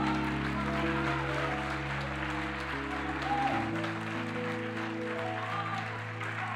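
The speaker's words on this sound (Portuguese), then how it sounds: "Pode aplaudir o Senhor." A church congregation applauds with a steady wash of clapping under sustained keyboard chords that shift partway through, moderately loud and continuous.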